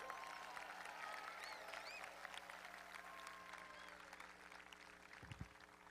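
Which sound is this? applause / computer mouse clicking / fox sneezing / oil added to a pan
applause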